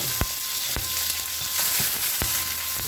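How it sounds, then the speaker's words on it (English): Carrots and asparagus sautéing fast in hot olive oil, a steady loud sizzle with a few sharp clicks of stirring utensils, no voices. "So there goes our carrots and our asparagus"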